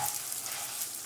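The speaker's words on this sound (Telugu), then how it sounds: "అది కూడా వేసుకొని ఇందులో ఫ్రై చేసుకోవాలి." Unpeeled garlic cloves fry in hot oil for an Andhra-style curry leaf pickle, a steady, dense sizzle heard up close with no talk over it.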